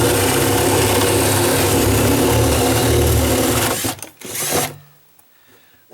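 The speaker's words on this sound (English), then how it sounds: "I could probably drill another hole over here." A drill bores a hole under a house deck, a loud steady whine that cuts out near the end and leaves near silence.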